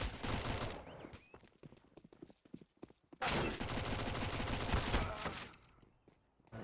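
Mac-10 submachine gun fire in a CS:GO tournament match, with rapid bursts and sustained automatic volleys close by. A long continuous burst comes in the second half, mixed with footsteps and faint game commotion.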